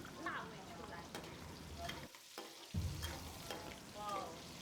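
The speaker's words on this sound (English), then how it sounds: "Add your chili and just let that fry" Fresh chili frying in oil for maodou gives a quiet, even sizzle with light stirring scrapes, briefly dropping out for a moment midway before resuming, with no talking.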